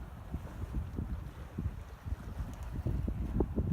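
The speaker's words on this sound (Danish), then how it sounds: "Kun lyden af bølgerne. Og bruser fra båden, der glider fremad." Waves and water rushing past a boat gliding forward at sea, a faint soft wash with gentle irregular splashes and low rumble, no voices.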